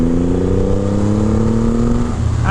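A 2500 cc Triumph Rocket 3 R motorcycle engine accelerates hard, a steady rising roar climbing in pitch for about two seconds before easing off, loud and close with no talking.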